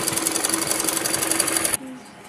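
A sewing machine stitches fabric for a Patiala salwar in a steady, loud mechanical whirr that runs for nearly two seconds, then stops abruptly, leaving a quieter room.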